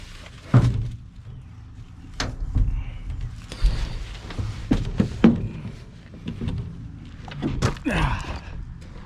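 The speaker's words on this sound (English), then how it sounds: "Listen to the sound of that door. That's a solid door." A heavy door on an old 1962 Ford C750 cabover truck shuts with a solid thunk, followed by several more knocks, clunks and footsteps nearby.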